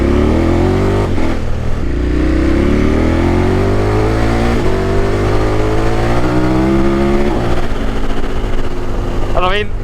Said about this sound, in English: Because I can really hear my exhaust.